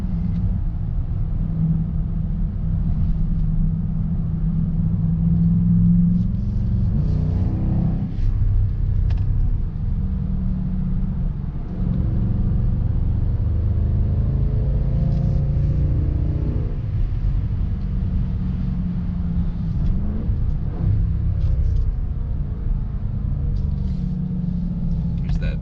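A 2019 Dodge Durango SRT, a big three-row performance SUV, is driven hard around a race track. Its deep, steady engine rumble fills the cabin continuously with rising revs and shifts, and a voice speaks over it.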